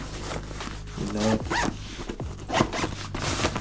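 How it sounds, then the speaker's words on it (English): The zipper on an Alienware laptop bag is pulled open and shut in several quick rasping strokes, close and fairly loud, with a short pause between the pulls. "High quality zippers,"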